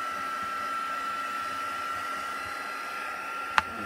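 A hair dryer blows steadily on a glittery Christmas gift decoration, a constant close whir with a high whine, broken only by one sharp click near the end.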